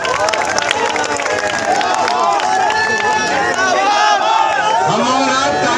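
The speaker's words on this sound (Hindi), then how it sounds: "हम और आप ताली बजा रहे हैं" A large crowd at a political rally in Khatauli claps and cheers in a dense, continuous wash of applause and voices, loud and close throughout.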